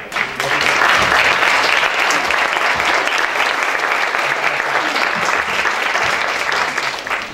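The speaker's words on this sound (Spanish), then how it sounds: "démosle un aplauso a Claudia Harari" An audience applauds speaker Claudia Harari at a 2017 landscape architecture month event, a dense, steady burst of clapping from many hands that stays loud throughout.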